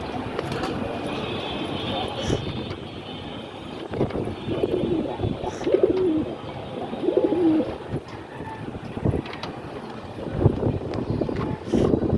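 Pigeons in a rooftop loft giving soft, low, repeated coos close by, with some wind and faint background voices mixed in throughout.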